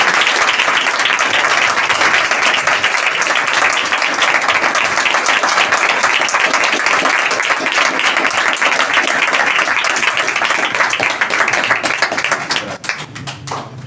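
A congregation at a Sunday church service claps loudly and continuously for about thirteen seconds, a dense, even roar of many hands that fades out in the final second.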